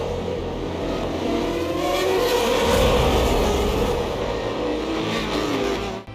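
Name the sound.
Formula 1 cars racing at 2011 Monaco Grand Prix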